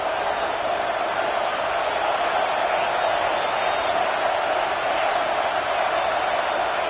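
Roaring stadium crowd at Autzen Stadium on third down in the NCAA 26 college football video game, a steady, dense wall of loud crowd noise with no talk throughout.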